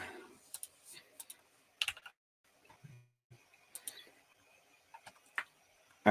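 Computer keyboard typing and mouse clicks at a desk, quiet and close: scattered bursts of key taps with short pauses between them and a few sharper clicks, with no talking.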